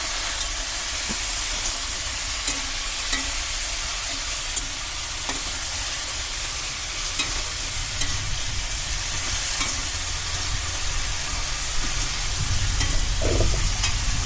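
Turmeric and raw oil go into a hot pan and fry with a constant loud sizzle and hiss, with occasional stirring scrapes near the end.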